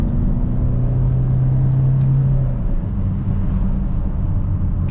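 Diesel engine of a 2011 Peugeot 508 SW with the 1.6 e-HDi 112 hp unit, heard from inside as a steady low rumble that holds a droning tone, then eases slightly after a downshift while driving.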